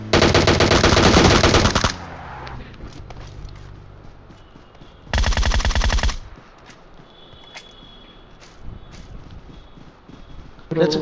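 Automatic gunfire from PUBG Mobile on the Erangel map: a loud, rapid burst for about two seconds, then a second burst a few seconds later, with quieter game ambience and scattered clicks between.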